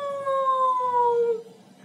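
A single drawn-out, wavering howl from a human voice imitating a jackal, clear and close, gliding slightly downward before trailing off.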